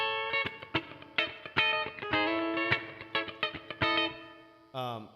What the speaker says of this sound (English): You got some reverb on that. That sounds, and you're playing some funk.